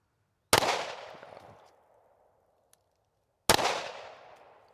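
Two sharp gunshots at a range while a red dot optic is being zeroed, spaced about three seconds apart, each loud and close with a long decaying echo trailing behind it, and no talking in between.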